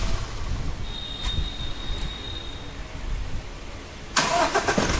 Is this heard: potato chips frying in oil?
no